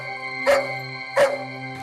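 A dog lets out two short howling cries about a second apart, set against a steady sustained musical drone in a Hindi crime drama scene.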